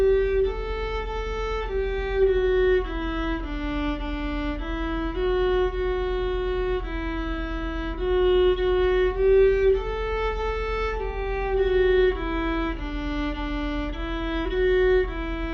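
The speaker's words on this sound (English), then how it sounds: "The next instrument is the viola." A viola, the orchestra's second-highest string instrument, plays a slow, sustained melody of bowed notes stepping gently up and down, heard alone and close.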